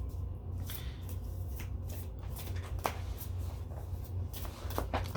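Tarot cards are shuffled by hand in a quiet room, a steady soft riffling and shuffling with occasional sharper card snaps, close and fairly faint.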